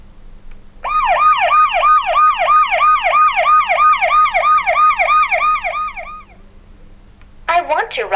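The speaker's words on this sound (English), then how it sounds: "I want to ride the police car." A rapid yelping siren cycles quickly up and down for several seconds, loud and near, then cuts off abruptly.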